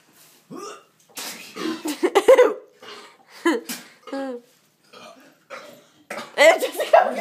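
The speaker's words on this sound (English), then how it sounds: "Everyone's throwing up." Retching and gagging sounds from people vomiting after drinking banana and Sprite, in short repeated bursts mixed with laughter and talk from several people.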